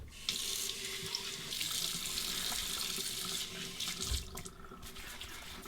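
Hot water gushes steadily from a bathroom sink tap, a continuous broadband rush that runs for several seconds with a slight surge near the end, filling the basin to warm the face before a wet shave.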